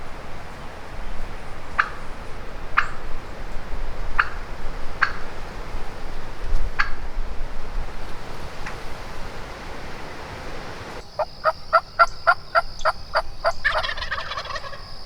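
Wild turkeys, Merriam's and Rio Grande, gobble from a creek bottom. Sharp gobbles repeat at irregular intervals over steady wind-like noise, then a closer, denser burst of calls comes at the end.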